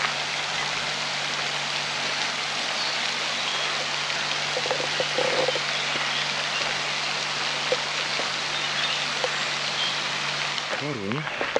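A small stream flows through a large city park in Toruń, giving a steady close wash of running water throughout, with a few faint sounds rising briefly near the end.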